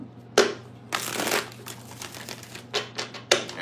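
A deck of tarot cards is riffled and shuffled up close, a crisp burst of rapid flutter followed by several shorter snaps and taps.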